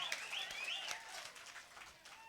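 Clapping from an audience at a village drama performance in Mazhaiyur near Pudukkottai, a steady patter of hands lasting the whole moment, moderately distant, with a high whistling tone weaving over it.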